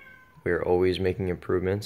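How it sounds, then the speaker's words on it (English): A pet cat meows loudly and repeatedly at close range in a home on a small rural property, its cries rising and falling over and between a man's speech. "you can probably hear my cat meowing his head off"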